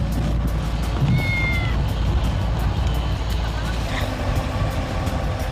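A cat meows a couple of times while trapped under a car and clutching the transmission, faint under steady vehicle rumble and a person talking.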